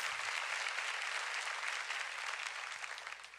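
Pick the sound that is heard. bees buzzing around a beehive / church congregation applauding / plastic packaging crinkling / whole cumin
church congregation applauding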